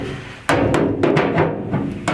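Carpenter's hammer striking dented car door sheet metal to straighten it, several sharp metallic blows at an uneven pace, loud and close.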